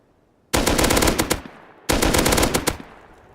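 Two bursts of rapid automatic gunfire in the video game Rust, aimed at a mini-copter, each a loud string of closely spaced shots lasting about a second, separated by a short pause.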